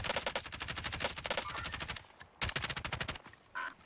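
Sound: gunfire at an enemy in the video game Warzone

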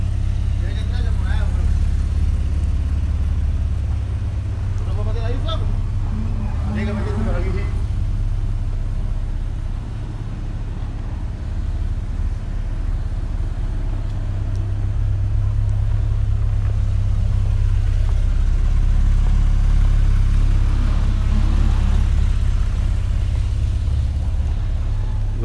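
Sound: Porsche cars being driven and lined up in dealership

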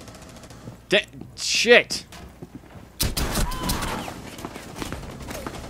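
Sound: gunfire from the video game Rainbow Six Siege

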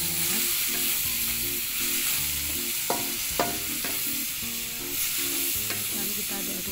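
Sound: sautéing shallots, garlic, chili and tomato in a pan

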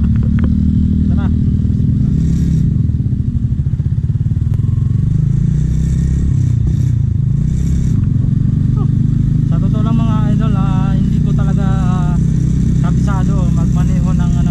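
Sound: Yamaha Sniper 150 motorcycle riding

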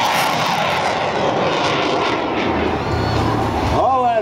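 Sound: aircraft engine roaring during hover maneuver

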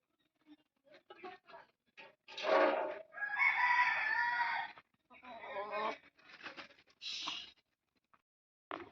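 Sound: rooster crowing

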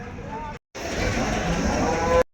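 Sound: buffalo lowing at livestock market

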